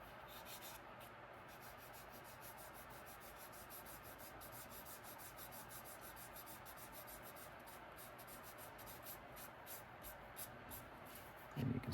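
Fine sandpaper rubs along the edge of a handmade trifold wallet, a soft, quiet, rapid scratching in even strokes that runs continuously up close, ending in a brief thump.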